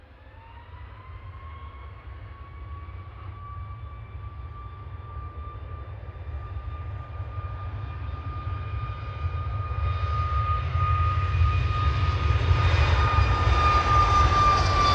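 A SunExpress airliner in Crystal Palace livery departs Manchester Airport for Antalya, a jet engine whine with rising tones building steadily louder as it powers up and pulls away.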